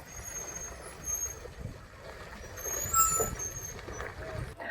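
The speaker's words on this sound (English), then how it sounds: "This dumper truck is on its way to fill that so-called" Dumper truck heading to fill an unauthorized pool near a river in Pune, its engine rumbling steadily with a sharp hiss of air brakes partway through, under a voice.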